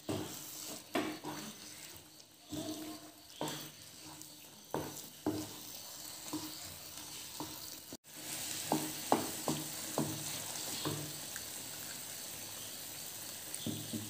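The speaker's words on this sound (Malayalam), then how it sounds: "എല്ലാ സൈഡും ഒരുപോലെ ഇങ്ങനെ ചേർത്ത് ഇളക്കി കൊടുക്കണം." Halva mixture being stirred in a frying pan, with steady sizzling and frying under repeated scraping strokes of the spoon, close and continuous with no talk.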